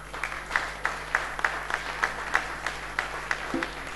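An audience at a live variety show claps for artists and musicians in a steady, even rhythm, fairly faint and distant, with a low hum running underneath.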